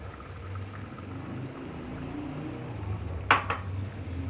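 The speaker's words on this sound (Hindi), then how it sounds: "अब मैं इसमें ये अंडे डाल दूँगी।" Eggs going into a pot of cooked potatoes that have boiled down dry, giving a faint soft pour and then a brief metallic clink near the end against low steady kitchen noise.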